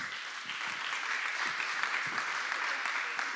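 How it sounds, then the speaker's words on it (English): Steady clapping from the audience at a city commission meeting honoring Coconut Grove police officers, moderately loud in a room and briefly sustained, with no talk. "Please give them a round of applause."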